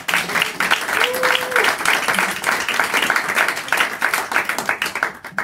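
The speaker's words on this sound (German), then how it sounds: "Einen großen Applaus" Audience applause at a political party panel event, sustained clapping with distinct individual claps, fairly close and loud throughout with some voices mixed in.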